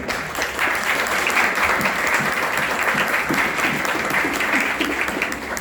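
Sustained, dense audience applause for rector Diniz at an academic lecture on criminal procedure law, loud and steady for the whole stretch, with no talk over it.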